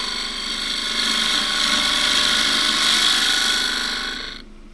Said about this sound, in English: we need to start by bringing the edge into the wood and then bringing the handle up